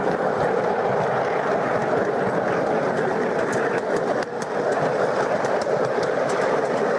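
Continuous rumble and mechanical hum of a 5 inch gauge garden railway locomotive, a Hymek, shunting wagons into a siding, with faint clicks on top and steady loudness throughout.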